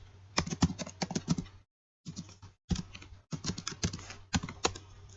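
Fingers type on a computer keyboard in quick bursts of close, crisp key clicks, broken by short pauses, with no talk.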